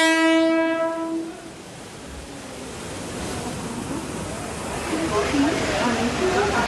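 A train sounds its horn at the start, then rumbles and splashes through floodwater covering the railway tracks after heavy rain at a station, a steady rushing wash of water close by.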